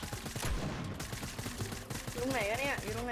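Rapid gunfire bursts in Fortnite Prop Hunt mode fill the scene with dense rattling shots, then a rising and falling whistle-like effect near the end. The level is quiet overall.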